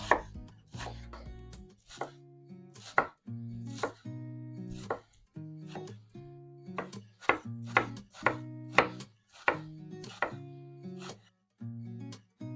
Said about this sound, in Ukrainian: Нарізаємо цибулю